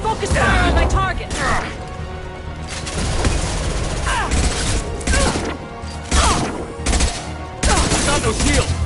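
Loud bursts of rapid automatic fire and heavy impacts fill a combat scene in the video game Mass Effect 2. Voices shout over the dense shooting in the mix.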